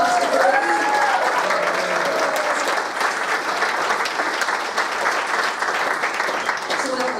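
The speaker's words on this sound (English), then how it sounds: "I think he definitely deserves another round of applause" A theatre audience at a gala night breaks into sustained applause, a dense wash of clapping that stays loud and even throughout, with a few voices faintly audible over it.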